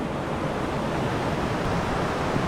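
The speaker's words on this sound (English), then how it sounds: "There's got some amazing cascades and waterfalls coming up here." A mountain beck in the Lake District rushes over cascades and waterfalls in winter, a dense, steady roar of water that is loud and close, with no pauses.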